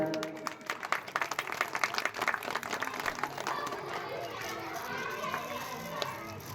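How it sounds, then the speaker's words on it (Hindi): Scattered clapping from an audience at a small welcome ceremony, quick uneven claps building and then thinning out, with voices and children's chatter mixed in underneath. "एक बार ताली हो जाए।"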